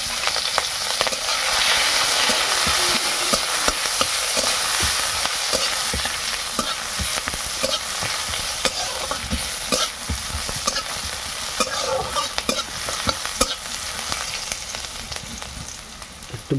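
Onions fry with dry red chillies and cumin in a village kitchen, a steady sizzle broken by repeated scraping and stirring clatters of a spatula in the pan, close and fairly loud.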